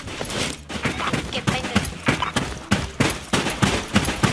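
An M4A1 rifle fitted with an ACOG sight and silencer fires in Special Force 2 in quick, evenly spaced bursts that repeat steadily throughout, with faint talk in the background.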